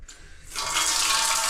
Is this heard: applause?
no